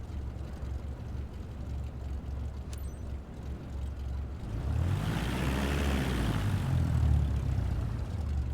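An airplane engine in Flight Simulator 2024 winds up for takeoff: a low, steady rumble that swells about halfway through and holds at a louder, fuller roar.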